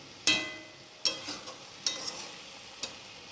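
Masala is stir-fried in oil for a taro (kochu) curry. Four sharp spatula scrapes against the pan come at roughly one-second intervals over a faint, quiet sizzle.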